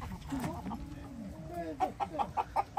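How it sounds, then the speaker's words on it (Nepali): Chickens at a farm in Korea cluck close by in soft, scattered calls, ending in a quick rhythmic run of sharper clucks. "यो कुखुरा फार्म"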